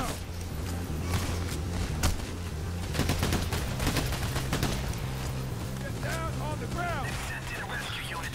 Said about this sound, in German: Alter, wie präzise die schießen, Alter.